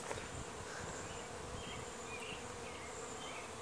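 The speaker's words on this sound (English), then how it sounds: "You can see all the bees that are flying in and out." A dense, steady buzz of many honeybees flying in and out of a hive on orientation flights, continuous and fairly loud, with wingbeat hum filling the air throughout.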